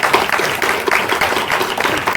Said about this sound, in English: A big applause to our